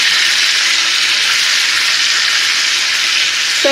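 An expensive steak fries in a pan, giving a loud, continuous, close sizzle with a steady hiss throughout and no talk.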